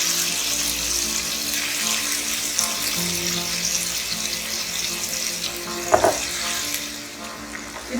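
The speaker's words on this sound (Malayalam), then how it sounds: "ഇത് നന്നായിട്ട് ബ്രൗൺ ആവുന്ന വരെ നമുക്ക് ഫ്രൈ ചെയ്തെടുക്കാം." Boneless chicken pieces fry in hot oil, giving a broad, steady sizzle close by, with a brief utensil clatter near the end.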